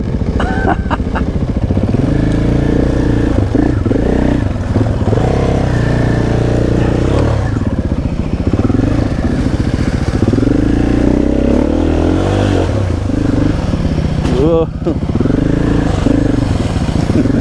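Royal Enfield Himalayan 450 and CFMOTO 450 MT motorcycles churning through a muddy quagmire, engines droning loud and continuous with revving surges, clatter and splashes, riders' voices briefly audible.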